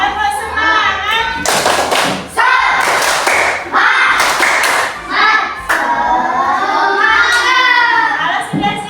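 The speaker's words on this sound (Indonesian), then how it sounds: "Tepuk semangat." A class does a rhythmic spirit clap, with loud, close bursts of hand claps and thumps in a patterned beat, mixed with children's voices chanting along.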